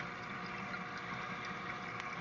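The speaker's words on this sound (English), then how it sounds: "the air comes in from this air inlet, goes into the venturi and mixes with the return line" Aquaponics venturi drawing air through an inlet into a recirculating return water line, a faint, steady pump-like hum with soft continuous bubbling and gurgling, even and unbroken, no voices.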